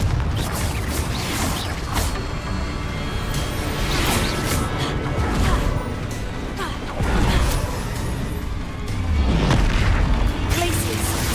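Confringo spell explosions in the Hogwarts Legacy video game go off as repeated loud booms and crashes with rumbling bursts, while a voice speaks over the action.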